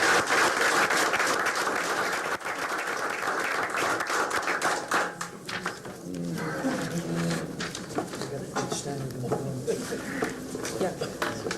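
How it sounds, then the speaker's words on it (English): Audience applause at a 1998 school board meeting, a steady wash of clapping that fills the opening seconds and then thins into scattered claps under talk and room noise. "another round of applause"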